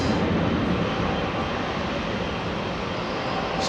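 Airliner accelerating down the runway for takeoff at Heathrow, a loud steady broadband engine roar that holds constant and fills the whole clip, heard from nearby with no voices.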